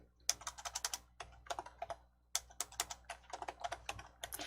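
Rapid keystrokes on a computer keyboard while a file name is typed, in two bursts of quick, uneven clicking separated by a short pause, close and fairly quiet with no talking.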